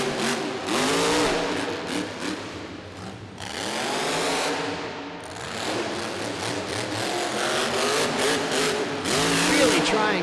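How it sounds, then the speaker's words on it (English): A monster truck engine screams at high RPM as the truck works around an indoor arena track at Rupp Arena, loud and sustained with rising and falling revs across the whole stretch. "You can hear that motor just screaming as he's working around the track."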